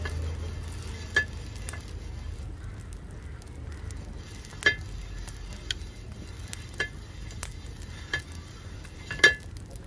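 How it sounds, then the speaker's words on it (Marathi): Batter sizzling on a hot griddle over a wood-burning clay stove, a steady low fry hiss with scattered sharp crackles and ticks from the fire, close and heard without talk. "तवा तापला आता मस्त. त्याच्यावर पीठ टाकून तसंच टाकते."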